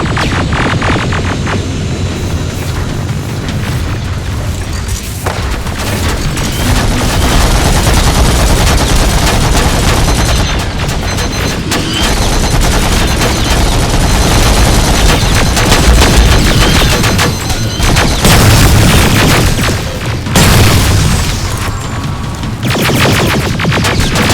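Dense, loud gunfire from the video game Terminator Resistance: sustained automatic bursts and overlapping shots pour out almost without pause, with heavy low thuds layered among the rapid cracks.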